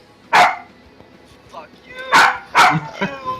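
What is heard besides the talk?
dog barking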